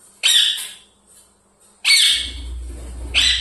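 A ringneck parrot gives three loud, harsh squawks spaced about a second and a half apart, close to the mic, with a low hum rising in the background after the second call.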